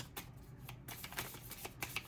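Cards being shuffled up close, a rapid run of soft papery riffles and flicks with a few sharper snaps, no voices.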